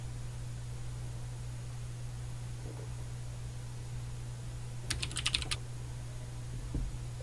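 Quick burst of typing on a computer keyboard while sending a tweet, about half a second of rapid clicks over a steady electrical hum and background noise.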